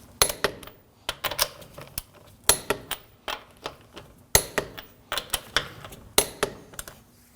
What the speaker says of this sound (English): Now we're going to torque the lugs to 89 foot-pounds.